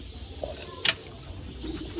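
Teddy pigeons at a breeder's loft coo softly and faintly in a few low murmurs, with one brief sharp rustle of feathers or movement partway through.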